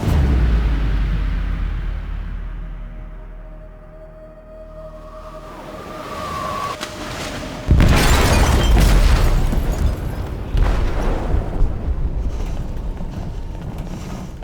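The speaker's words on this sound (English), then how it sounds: "They detonated an explosive in the hold." An explosive charge blasts inside a ship's hold in Detroit: Become Human, a sudden heavy boom midway that gives way to long roaring, rumbling debris and rolling aftershocks, following a tense swelling lead-in.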